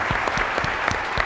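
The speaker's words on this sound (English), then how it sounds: "big round of applause for Richard, Jasper, and the rest of the team that put this together" A keynote audience at a Java community event claps for the team behind the presentation, a brief, fairly loud burst of dense applause with a few sharper individual claps near the front.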